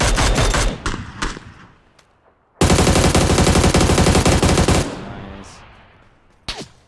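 Automatic rifle bursts in PUBG on the Miramar desert map: a few scattered shots, a pause, then a loud sustained stream of rapid fire that fades out, with brief player voices at the start and end.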